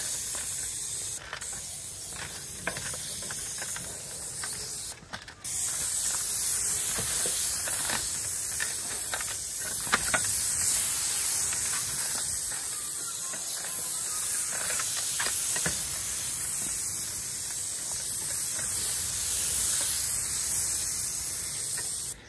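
Premier paint goes onto a roof as a first coat from a spray gun, a loud steady hiss that runs almost continuously with a couple of short breaks near the start.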